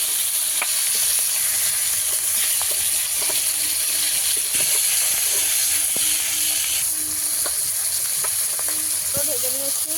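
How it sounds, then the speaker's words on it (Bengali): Tengra fish frying in a little oil, a constant close sizzle and hiss throughout with occasional clinks of a utensil against the pan. "এই মাছ ভাজার সময় একটু কম তেল দিতে হবে,"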